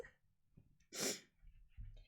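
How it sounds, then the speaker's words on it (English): A single loud, close sneeze with a sharp burst, surrounded by soft breathing before and after. "I didn't know I was gonna sneeze."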